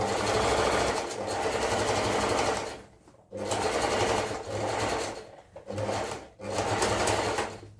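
A sewing machine stitches a seam on baggy pants in close, loud bursts of rapid mechanical chatter, stopping briefly three times between runs.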